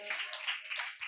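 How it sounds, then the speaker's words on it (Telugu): Church congregation members clap their hands firmly in a quick, uneven burst of claps lasting about a second, with no talking over it. "కొట్టి చప్పట్లు గట్టిగా."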